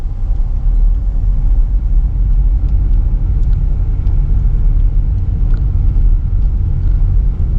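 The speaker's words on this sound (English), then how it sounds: "We're just driving along." Car driving through a historic mill village in East Tallassee. A steady low rumble of engine and road noise runs throughout from inside the vehicle, with faint small rattles over it.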